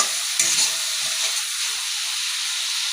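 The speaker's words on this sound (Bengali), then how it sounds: "শুকনো মশলাগুলো আমি যেটা পেস্ট বানিয়েছিলাম এই মশলার মধ্যে দিয়ে দেবো দিয়েও আবারও কয়েক সেকেন্ড কিন্তু কষাতে হবে" Spice paste and tomatoes for an ilish (hilsa) fish dish sauté in a hot pan, giving a steady sizzling hiss with a few stirring scrapes near the start, close and continuous with no talk.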